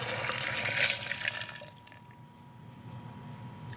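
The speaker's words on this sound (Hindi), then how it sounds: "1 गिलास पानी का ऐड करेंगे।" Water pours into a jug for a homemade drink, a loud splashing stream that fades after about a second and a half into a quieter trickle.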